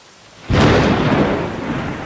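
Thunder in a thunderstorm: after a brief hush, a loud, sudden crack opens into a deep rolling rumble that slowly fades, with rain hissing underneath and no voices.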